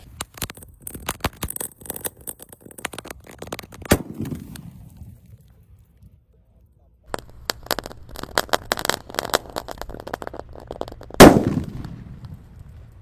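A 1.9 roman candle firework lit in a hole in the ground sputters and fizzes with rapid crackling bursts, goes quiet for a moment, then crackles again with one loud pop near the end.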